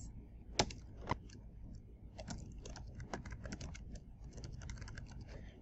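An address is typed on a computer keyboard: a steady run of light, close key clicks, with two sharper isolated taps early on, fairly quiet against a low background hum.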